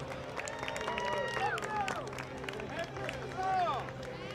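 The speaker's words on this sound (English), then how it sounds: "Give them a big round of applause, everybody." Crowd at the Salisbury Jaycees Christmas Parade applauding and cheering outdoors, a steady wash of claps and voices mixed with parade music and an announcer talking over it.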